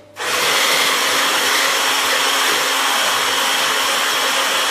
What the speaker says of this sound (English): So I'm just going to whisk this,